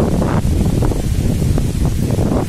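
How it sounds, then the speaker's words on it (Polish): Steady wind buffeting the microphone, a continuous low roar with gusty rumbles and no voices, close and fairly loud throughout. "wiatr wieje"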